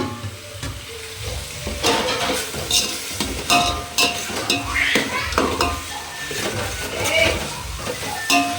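Ginger garlic paste frying in oil for chicken dum biryani, a loud steady sizzle with continuous stirring, scraping and frequent metallic clinks of a spoon against the pot, no talking.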